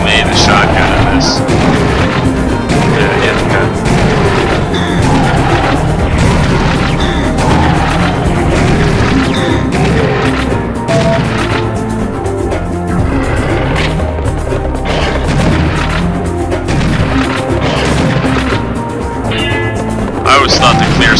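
Shotgun blasts in the Serious Sam HD game sit among dense game audio, music and commotion, loud and continuous across the stretch with no clear isolated shots.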